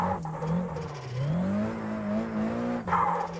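Tires squeal on a Nissan 180SX in Assetto Corsa as the car slides with its tires lit up, the squeal running loud and continuous over a steady, wavering engine note, with no talking.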